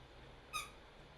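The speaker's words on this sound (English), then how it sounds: "The squeaky toy has entered the chat." A squeaky toy gives one short, bright squeak over a quiet background hum.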